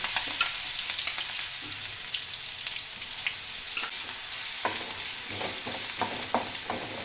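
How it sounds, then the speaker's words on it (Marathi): Coconut and coriander roasting in a pan with cumin for a brinjal-potato curry, a steady crackling sizzle broken by frequent close spatula scrapes and clicks throughout. "चांगलं असं लालसर थोडंसं भाजून घेते"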